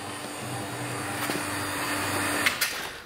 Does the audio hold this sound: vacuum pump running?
yes